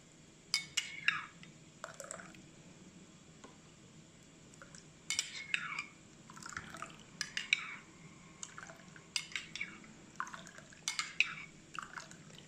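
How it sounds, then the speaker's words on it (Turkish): Hot cooking broth from a Turkish şevketi bostan (kenger) stew is ladled into an egg and lemon sauce, heard as close metallic clinks of a spoon against a bowl with light liquid trickles, repeated several times, no talk. "Ve şimdi yemeğimin suyundan terbiyeme ekliyorum."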